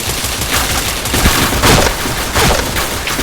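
Rapid bursts of gunfire from the shooter game Point Blank, loud and dense with overlapping shots throughout, no talk.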